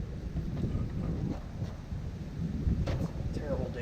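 Wind gusts batter the microphone outdoors on a blustery day, a low rumbling roar that swells and fades throughout, loud and close.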